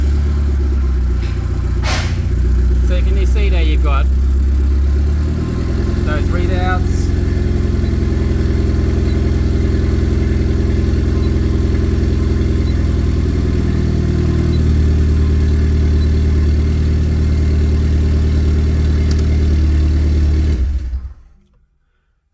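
A Mitsubishi Evo X SST idles with a steady, low engine rumble that holds for about twenty seconds before cutting off, while someone talks over it throughout.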